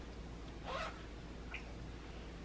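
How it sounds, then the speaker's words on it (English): A shirt zipper is drawn up in one quick, soft rasp close by, followed by a faint second scrape against quiet room tone. "It just kind of like zips up."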